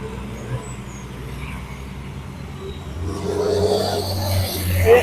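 Racing trucks from the British Truck Racing Championship climb the hill at Brands Hatch, a low engine drone that grows louder and nearer toward the end, over faint background ambience.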